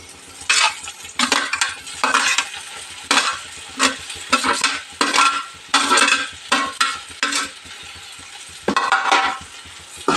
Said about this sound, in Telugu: ఈ భేండి వచ్చేసి వేసుకుందాం దీంట్లోకి